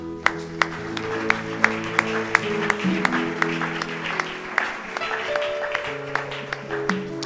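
A church congregation clapping in steady, rhythmic beats during worship, with music and singing sustained underneath.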